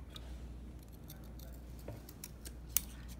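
Scissors snip a strip of cereal-box cardboard in a few quiet, scattered cuts, with one sharper click near the end over a low background hum.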